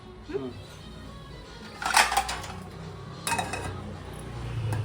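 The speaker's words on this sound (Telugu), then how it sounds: "కొంచెం మూత పెట్టేద్దాం" Lid set onto a cooking pot in a home kitchen, a couple of clear metallic clanks close by with a short rattle, amid quiet room noise and scattered kitchen sounds.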